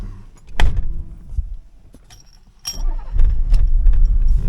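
A 1985 BMW 635CSI is started from inside the car, with keys jangling and door clunks first, then the engine catching and settling into a close, steady idle.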